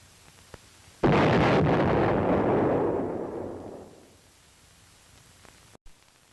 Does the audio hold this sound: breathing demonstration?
no